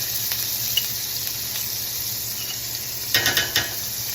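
Minced garlic and fresh ginger sizzle steadily in a very hot pan for lo mein, a constant bright hiss with a few brief stirring clatters near the end.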